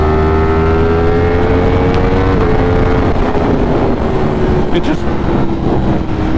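A motorcycle with over 200 horsepower accelerates on a commute, its engine a steady droning tone that sags slightly in pitch under a constant loud rush of wind noise.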